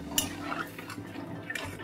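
A metal spatula stirs a mourola fish curry with garden brinjal in a pan after water is added, giving a couple of sharp clinks and soft scraping sloshes, close and brief.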